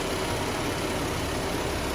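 A 2014 Jeep Grand Cherokee engine idles in a steady, unbroken drone with a faint even hum, close by and alone.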